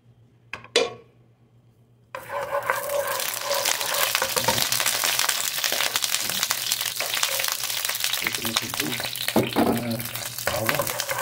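After a brief clatter of a pan, about three tablespoons of olive oil heating for cuttlefish break into a steady, close sizzle that lasts to the end, with occasional stirring clinks.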